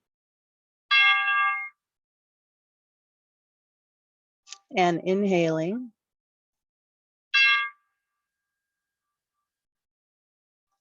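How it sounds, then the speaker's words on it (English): A meditation chime rings twice with clear, bright tones several seconds apart, each fading quickly, while a calm voice speaks briefly between the strikes in an otherwise quiet room. "as I ring the chime."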